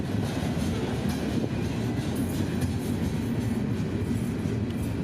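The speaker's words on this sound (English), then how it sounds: "These 10 loaded coal hoppers are headed up to CEMEX's Brooksville quarry for unloading." A CSX freight train of ten loaded coal hoppers rolls past on the Brooksville subdivision, a loud, continuous rumble of wheels and cars with faint clickety-clack close at hand.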